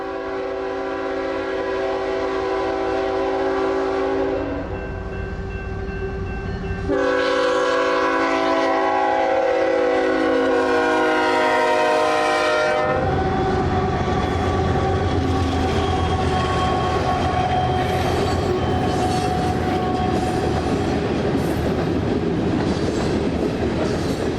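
A freight train rumbles past with sustained horn-like tones from the locomotives, including an H1 and a trailing CP AC-44, then the loud, steady roar and clatter of cars rolling by close up.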